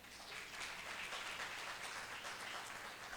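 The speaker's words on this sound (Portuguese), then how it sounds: "Vamos dar uma salva de palmas para o Gustavo." An audience at a religious talk claps for a speaker, a steady and faint wash of many hands applauding throughout, fairly distant and even, with no voices on top.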